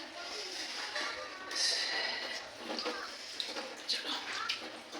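Hands washed under running tap water, a steady hissing stream with splashes and brief bursts; faint voices and household sounds in the background.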